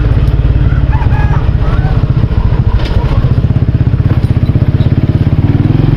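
A motorbike ridden through a rural Hmong village area in Vietnam, its engine chugging with a fast, steady pulse close up, with rough crunching and rattling from the track throughout.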